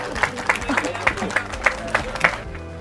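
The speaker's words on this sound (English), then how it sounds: "Clap if you want." Wedding guests at a beach club ceremony clap together in a short burst of rhythmic applause, several sharp claps over about two and a half seconds, close and loud, with a voice talking alongside.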